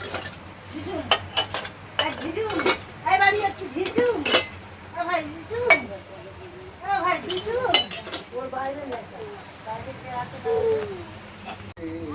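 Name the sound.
mixing salt and sugar water in a glass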